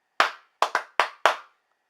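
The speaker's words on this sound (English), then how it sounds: "when you clap your hands" Five sharp hand claps in an uneven rhythm, close and fairly loud, with a quick pair in the middle and silence after.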